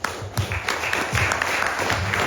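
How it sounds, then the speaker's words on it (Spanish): Audience applause at a book presentation in Peru, a steady wash of clapping from a seated crowd, moderately loud and sustained throughout with no talk over it. "Palmas."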